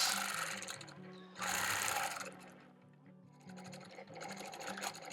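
A sewing machine quilts swirling stitches along a ruler on an orange peel quilt, running in steady bursts with brief pauses where the needle stops for anchor stitches, close and loud with no voices.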